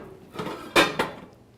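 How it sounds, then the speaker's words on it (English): Kitchen cookware clatter as a frying pan is pulled out, a soft rummaging knock followed by two sharp metallic clanks close by, then a fading ring, with no talking. "So now I'm going to take take out a frying pan"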